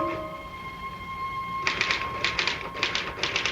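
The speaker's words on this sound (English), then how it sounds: "Start typing, Harry." An old radio drama typewriter clacks in quick uneven bursts of keystrokes after a faint steady tone, close and fairly loud with no talk.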